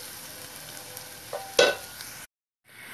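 Chopped onion sautés in tempering oil for a pumpkin curry with a low, steady sizzle. A sharper clatter of stirring comes midway, then a brief silence before the frying resumes, quiet and without talk.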